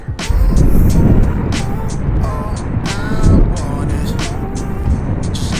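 Rush-hour road traffic in Barangay Punuan, San Fabian, Pangasinan: a dense wash of car engines and tyre noise, with vehicles passing close and a few surging louder moments.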